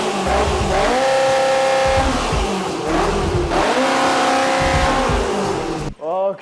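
Small car engine built with motorcycle pistons, individual throttle bodies and a big turbo, revving hard in repeated loud rising and falling bursts close by, with a brief dip and a short whistling rise at the end.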